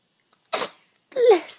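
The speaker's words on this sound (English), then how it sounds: "You gonna sneeze?" A baby sneezes twice in quick succession, each a short close burst, the second a little fuller with a voiced squeak at its end, with quiet room between them.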